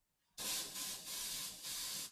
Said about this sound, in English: you're supposed to spray it on